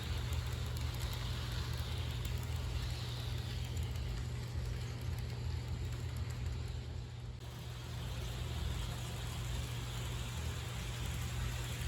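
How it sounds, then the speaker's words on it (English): HO scale Proto 2000 EMD E7A Chicago Northwestern diesel model locomotive running at full throttle pulling four commuter cars: a steady, quiet motor hum with a constant hiss, unbroken for the whole stretch and with nobody talking. "I have this locomotive basically on full throttle, and it performs pulling this four commuter car consist absolutely with no effort whatsoever"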